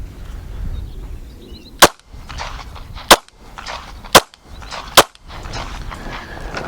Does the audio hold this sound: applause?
no